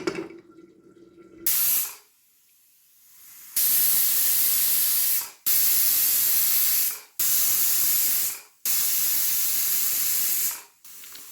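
A pressure cooker on the stove, cooking a broad bean, potato and tomato curry, vents steam in four long, loud hissing bursts separated by brief pauses, with no talk over it.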